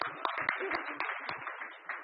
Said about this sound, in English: I get 2 rounds of applause.